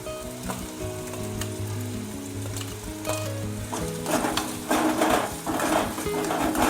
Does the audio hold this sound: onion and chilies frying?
yes